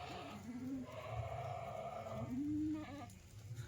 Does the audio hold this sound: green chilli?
no